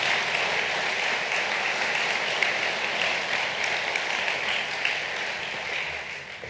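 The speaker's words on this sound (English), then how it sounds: "I really think that he deserves a great round of applause." Sustained audience applause fills a hall during a university president's State of the University address, a dense, steady wash of many hands clapping at even loudness and fading slightly at the end.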